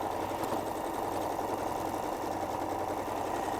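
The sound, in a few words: sewing machine stitching around a cushion's edge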